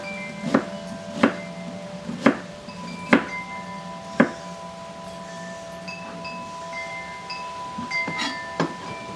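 Half an onion being diced with a knife on a cutting board: about eight distinct sharp chops at an irregular, unhurried pace, close and fairly loud, with a faint steady hum underneath and no speech.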